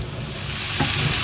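Onions cook gently in a pan over low heat, giving a soft, steady close-up sizzle with a faint stirring scrape, and no voices.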